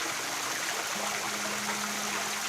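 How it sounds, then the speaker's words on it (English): Waterfall at Horseshoe Falls in Waynesville, Ohio, pouring down over rocks: a steady, dense rushing wash of water, close and continuous with no breaks. "that section of the water that's coming down the falls"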